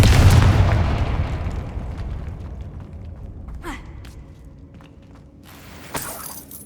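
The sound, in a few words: Confringo explosive spell blast in the video game Hogwarts Legacy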